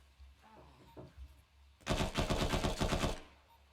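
A single sustained burst of rapid automatic gunfire in a shooter game with drones and mortars, loud and close, coming after a quiet stretch with a few faint clicks and ending abruptly.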